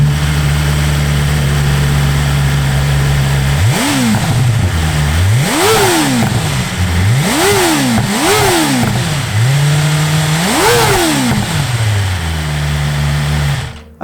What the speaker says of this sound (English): We've got the Acropovich silencer, which I started up earlier. Here's how that sounds.